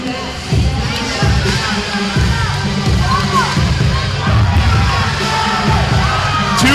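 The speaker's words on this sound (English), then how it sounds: "I've never seen a crowd react like this, ever, at any fight." A fight-night crowd roars and yells continuously, with whoops and shouts rising in waves and some loud thumps, the noise dense and sustained from start to finish.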